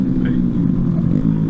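A motorcycle with a loud exhaust, its baffles not fitted, rumbles close by in a deep, steady, throaty idle on the street.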